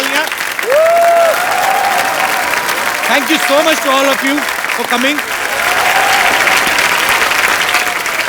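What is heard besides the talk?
audience applause for the cast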